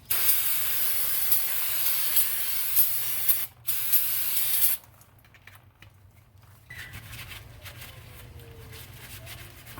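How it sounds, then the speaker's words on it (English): Brake cleaner sprays in a loud, steady aerosol hiss onto the front brake parts of a 2013 Chevrolet, cutting out briefly before a second burst, followed by quieter clinks of work. "Brake cleaner."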